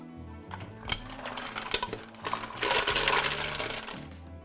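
Raw mussels tumble into a reduced marinara sauce in a metal pan, giving a burst of clattering shells, then wet stirring and scraping with scattered clinks, loud and close.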